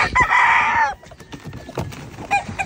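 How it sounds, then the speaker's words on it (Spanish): A rooster among newly arrived fighting roosters lets out a loud, close crow lasting about a second, followed by scattered clucks and shuffling. "Ya dieron cuenta los que están allá arriba que ya llegaron gallos nuevos."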